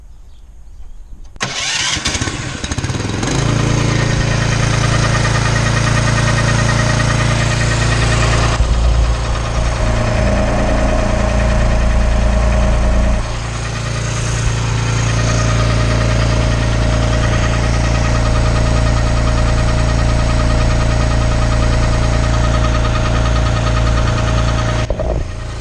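A gas engine driving a pressure washer pump, an AR45 unit with a new pump, starts and then runs steadily at a loud, constant drone with a strong low hum, close to the microphone, with no talking.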